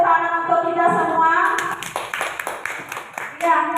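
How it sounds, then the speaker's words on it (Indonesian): At an Indonesian school gathering, a speaking voice gives way to a short burst of clapping from a small group of hands, with crisp, uneven claps that trail off after about two seconds. "Jadi tepuk tangan untuk kita semua"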